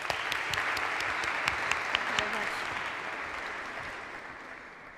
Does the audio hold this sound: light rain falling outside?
no